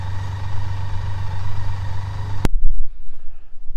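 A BMW K75S motorcycle that sat for ten years idles with a steady, close engine drone, then cuts off abruptly partway through, leaving quiet room noise.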